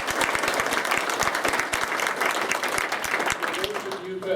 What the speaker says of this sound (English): Can you give the mayor a round of applause?